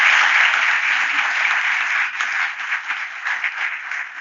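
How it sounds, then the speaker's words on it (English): An audience at an International Women's Day celebration gives a sustained round of applause, dense and steady at first, then thinning into scattered claps toward the end. "I would like you all to give her a really big round of applause and thank you."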